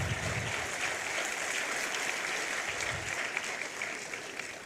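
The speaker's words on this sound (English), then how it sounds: "Yeah, you can clap." An audience at an Indian institution's event applauds a string of global and national rankings, with dense, steady clapping that holds evenly across the whole stretch and no talk over it.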